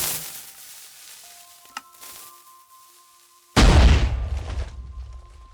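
TNT cannon in Minecraft: a few quiet clicks and fizzing, then a sudden loud, close explosion boom that rumbles and decays over the next couple of seconds.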